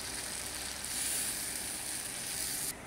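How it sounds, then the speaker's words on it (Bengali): Milk goes into a hot pan of ash gourd malai curry, already cooked down with cashew and almond paste, and sets off a steady, close sizzling hiss that runs unbroken with no talking. "আমি এখন এখানে একটু দুধ ঢেলে দেবো।"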